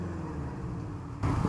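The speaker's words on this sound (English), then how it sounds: "why is your car all of a sudden so loud? The exhaust split!" A Subaru car running loud after its exhaust split puts out a low engine rumble that grows noticeably heavier and louder near the end, with no talking.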